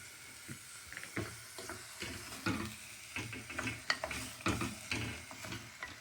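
Basmati rice being stirred around in hot oil in a pan, close scraping and rustling strokes in an uneven rhythm over a soft sizzle; no talk.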